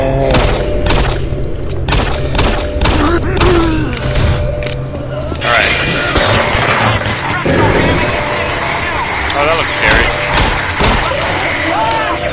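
Repeated pistol shots ring out in the first-person shooter DOOM 3, cracking in quick irregular bursts over dense game sound and a low mechanical rumble that runs throughout.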